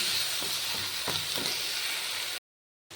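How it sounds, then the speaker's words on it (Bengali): Spice mix sizzles steadily in hot oil in a pan with ginger for a vegetarian banana-flower dish, a continuous close hiss broken by a few soft stirring scrapes, then cut off abruptly near the end. "এবার তাতে আমি প্লেটে সব মশলা মিশানোগুলো দিয়ে দিচ্ছি এবার এটা ভালোভাবে কষিয়ে নেব"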